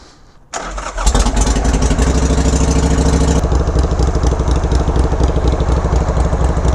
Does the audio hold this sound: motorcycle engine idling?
yes